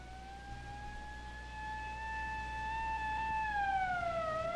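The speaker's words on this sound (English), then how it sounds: "It's an ambulance." An ambulance siren wails with a steady, rising then falling tone, fairly close and loud, sounding alone against a low background rumble.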